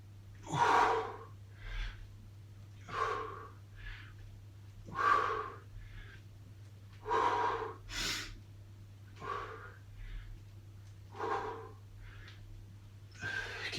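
Heavy breathing during a full-body workout: loud, close inhales and exhales repeat about every two seconds over a steady low hum.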